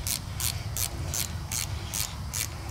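A hand ratchet snugs down bolts on a KTM 300 motor being fitted into the frame, giving seven quick, evenly spaced bursts of sharp clicking close by over a low background hum.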